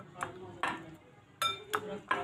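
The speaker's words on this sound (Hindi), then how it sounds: "अब आप इसको अच्छी तरह से मिक्स कर लें।" Sauce being mixed into a bread snack mixture in a bowl, five or six distinct clinks and scrapes of a spoon against the dish, fairly quiet with pauses between strokes.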